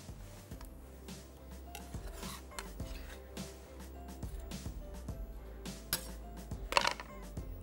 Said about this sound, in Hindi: ये तमाम वेजिटेबल, जिसमें शिमला मिर्च, प्याज, टमाटर, हरी मिर्च और पासली, ये तमाम वेजिटेबल हमने एक साथ इसमें शामिल कर देनी है